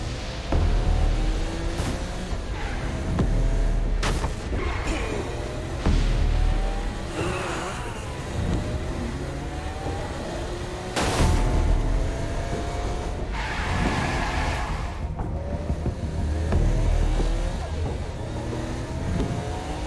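A car drives in Saints Row, with a steady engine drone and repeated tire squeals and skids, heard close and loud throughout with only faint talk.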